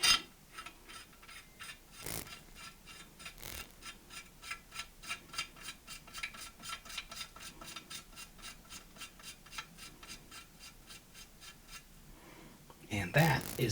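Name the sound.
hand-tightened Trulock choke screwed into shotgun barrel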